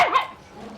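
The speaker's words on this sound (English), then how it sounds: "Sorry for the barking dogs." A dog gives one short, sharp bark, brief and fairly close, followed by a faint fading tail.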